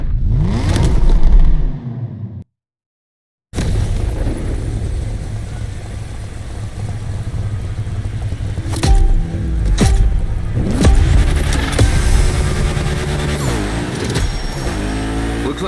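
Cars revving and accelerating in The Crew Motorfest racing game, a loud continuous roar of engines with rising and falling revs and a brief cut to silence near the start.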